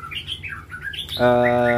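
A white-rumped shama in a hanging cage chirps a quick run of varied whistled notes, then breaks into a loud, sustained buzzing, harmonic call, close and clear.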